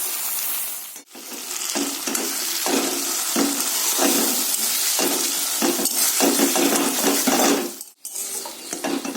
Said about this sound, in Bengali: এবার আমি মশলাটা তুলে দিয়ে দেবো।